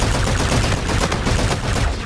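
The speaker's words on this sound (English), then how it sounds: "It looks like it's an energy assault rifle now, which is interesting" Energy assault rifle, an AK variant, firing in a video game: a dense, steady stream of rapid automatic shots, loud and continuous throughout with no voices.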